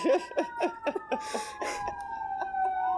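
A distant emergency vehicle siren wails with a falling pitch, mixed with a rapid series of honks or chirps at the start, fairly faint and outdoors.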